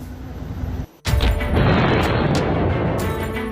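War-footage explosions and bombing blasts hit hard after a brief drop to near silence, a heavy boom followed by a sustained loud rumbling roar with scattered bursts and cracks on top.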